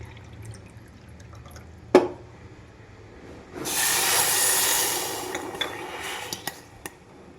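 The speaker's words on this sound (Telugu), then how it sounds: "రెండు కప్పులు వాటర్ వేసుకోవాలి" Water is poured into a pot of sugar for syrup: one clank is followed by a steady, loud rushing pour lasting a couple of seconds, then a few scattered drips and taps.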